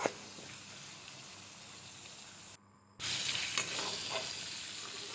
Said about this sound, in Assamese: তাৰপিছত আকৌ মই মাংসখিনি পিঁয়াজখিনিৰ লগতে দি ভালদৰে লাহে লাহেকৈ লৰাই থাকিলোঁ।